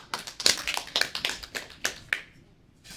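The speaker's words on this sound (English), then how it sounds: "let's applaud Alicia" A classroom audience applauds a presenter named Alicia: a brief, fairly faint patter of a few people clapping, which thins out and stops after about two seconds.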